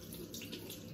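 Tap water runs steadily into a bathroom sink during evening face washing, a soft, continuous faucet stream heard quietly on its own.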